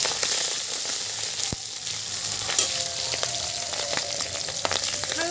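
Mutton pieces frying in a pan over a cumin tempering, giving a steady, close sizzle throughout with a few scattered clicks and knocks, and no voices.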